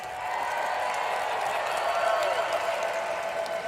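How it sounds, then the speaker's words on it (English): Grandstand crowd at Keeneland during the Breeders' Cup 2022 applauding in a steady, dense wash of clapping that holds at an even level throughout, with a faint voice threading through it. "I would love a round of applause from everyone here at the grandstand in Keeneland"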